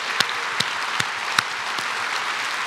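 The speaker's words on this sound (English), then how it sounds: "Let's give them a round of applause." A keynote audience gives sponsors a round of applause, an even, steady roar of many hands at a distance, punctuated by a few sharper individual claps standing out near the front.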